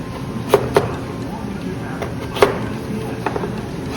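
Knife cubing food on a cutting board in a home kitchen, a handful of sparse, sharp taps against the board over steady background hiss.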